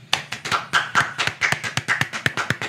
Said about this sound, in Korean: 일단 묻지도 따지지도 않고 박수 한번 치고 시작하겠습니다.